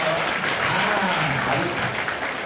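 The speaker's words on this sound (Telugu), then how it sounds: "భక్తిగా మీరందరూ చప్పట్లు కొడితే ఎంత సౌండ్ వస్తుందో" A crowd at a Sri Rama Navami devotional gathering claps together in steady, dense applause, a brief moderately loud wash of many hands.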